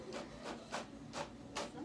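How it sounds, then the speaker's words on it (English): A label printer runs nearby while shipping box labels print, giving four or five evenly spaced bursts of whirring and feeding, faint and steady in a quiet room. "You can hear the printer going off in the background."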